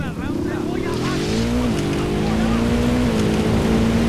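A motorcycle engine in the video game Ghost Recon Wildlands gives a steady, droning hum that climbs gradually in pitch across the whole stretch.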